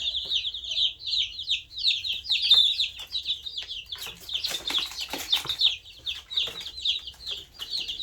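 Barnyard mix chicks in a brooder keep up a continuous high, overlapping peeping, close and lively, with occasional soft scratching and shuffling beneath.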